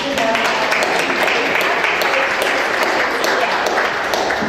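An audience at a photography talk gives a round of applause to thank a host, a dense, lively patter of many hands clapping close by that holds steady throughout, with voices faintly mixed in.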